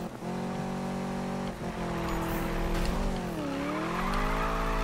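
A Chevrolet Camaro Z/28 in the racing game Need for Speed (2015) drifts with a sustained engine drone whose pitch sweeps up and down, tires squealing under it, loud and continuous without talk.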